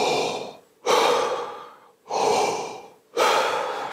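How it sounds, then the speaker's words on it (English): Two slow inhalations through a wide-open mouth, taken during a trumpet fundamentals lesson before a first attack, each a loud, close, airy rush that fades out, separated by brief pauses. "I want you to have a nice open oral cavity, and I want you to breathe in"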